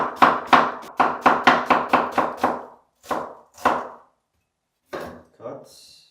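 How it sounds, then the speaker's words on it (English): A knife chops through an onion cut in half on a board, a rapid run of crisp, evenly spaced close strikes followed by a few slower, separate cuts and a brief pause. "Onion, cut in half, and slice, fold to fold."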